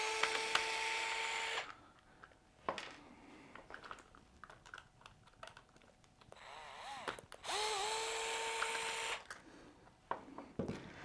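Screws are backed out of the gear cover on a Traxxas RC vehicle during a driveshaft swap, giving bursts of whirring power screwdriver spins separated by small clicks and handling noises, close up with no talk.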